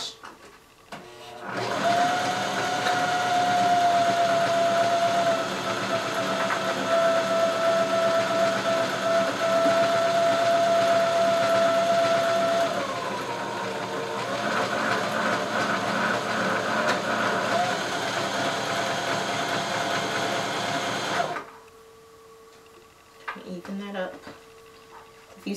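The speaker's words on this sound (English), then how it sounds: "I'm going to start right here and just go ahead and sew that down." Home sewing machine running a straight stitch through pillow fabric, a steady close motor whir that hums continuously for nearly twenty seconds, dipping slightly partway through before stopping, with no talking over it.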